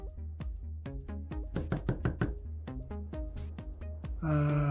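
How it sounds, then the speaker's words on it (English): A bedroom door takes a series of knocks, the sharp irregular raps sounding under a musical backing, before a loud sustained tone cuts in at the end. "Groggily, you knock on her door."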